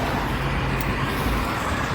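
A car driving fast along a curvy road through a business area with many trucks, heard as a steady, fairly loud road and engine rumble with broadband traffic noise and no talking.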